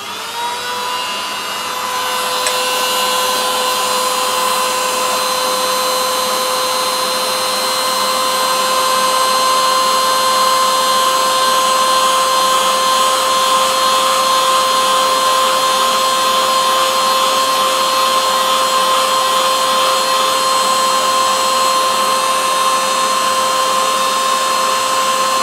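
A hair dryer runs steadily and loudly for the whole stretch, drying the centre of a daisy painted on paper, its motor whine holding one even tone with no talk over it.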